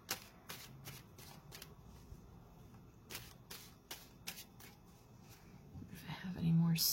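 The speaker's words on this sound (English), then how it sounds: "So I'm just going to shuffle them really well for Virgo." Cards being shuffled in repeated riffling bursts, close and fairly quiet, with a soft thump near the end.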